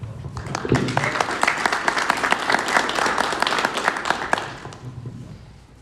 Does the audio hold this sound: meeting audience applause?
yes